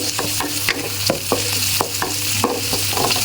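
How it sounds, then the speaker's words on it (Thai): Shrimp stir-fried with Chinese kale and broccoli in a pan, loud continuous sizzling broken by repeated scraping strokes of a spatula in an uneven rhythm, with no voices. "ผัดคะน้าใส่บรอกโคลีผัด กุ้งให้ สุกก่อน"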